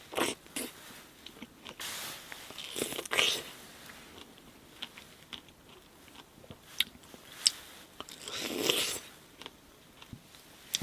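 Someone eats a Kingsberry strawberry outdoors at a campsite, with scattered close, soft bites and wet chewing sounds coming in irregular bursts amid quiet pauses.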